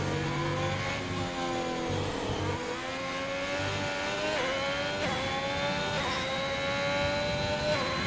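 A Ferrari Formula 1 car engine in a racing video game at Imola screams at high revs in a sustained loud drone, with pitch shifts as gears change and other engines blending in.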